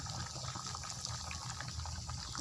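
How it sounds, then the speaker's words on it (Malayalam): Potato, onion and tomato curry boils in a pot, giving a steady, continuous bubbling and hissing wash with no breaks, close and moderately loud. "ഉരുളക്കിഴങ്ങും ഉള്ളിയും തക്കാളിയൊക്കെ കൂടിയിട്ടിട്ട് ഒരു കറി കേട്ടോ അതാ തിളച്ചുകൊണ്ടിരിക്കുകയാണ്"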